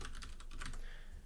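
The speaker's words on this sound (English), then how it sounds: "if I press A on my keyboard" Fingers tap on a computer keyboard in a quick burst of about eight soft, close keystrokes, then it falls quiet.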